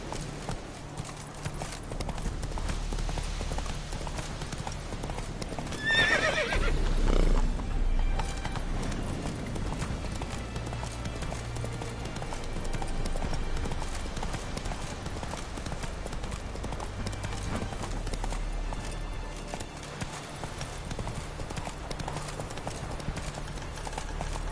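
Horse hooves gallop in a steady clip-clop rhythm in The Witcher 3, continuous and moderately loud throughout with faint game ambience beneath.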